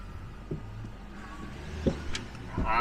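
A Jaguar S-type with a newly fitted engine creeps in reverse under its own power, giving a low idling engine rumble with a few clunks and a rising tone near the end.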